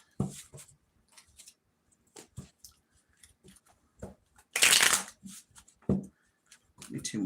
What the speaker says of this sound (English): Maybe 2 more shuffles